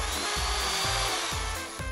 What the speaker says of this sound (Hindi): मुझे तुम्हारी ड्रिल चाहिए